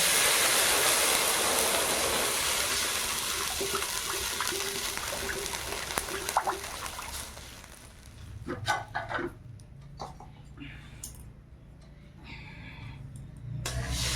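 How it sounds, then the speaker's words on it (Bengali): Water is poured into a pan of fried vermicelli for a vermicelli payesh, giving a steady splashing pour that fades after several seconds into softer bubbling and scattered clinks. "এবার পরিমাণ মতন একটু জল দিয়ে দেবো"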